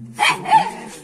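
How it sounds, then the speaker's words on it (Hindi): A dog barks and yelps close by in a loud, brief burst of two quick barks, with a household setting around it. "इधर भी कुत्ता है अभी इधर ही यहाँ पर ही हल्ला कर रहा है"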